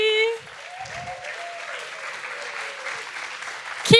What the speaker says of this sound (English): Keep that applause going for all of our poets.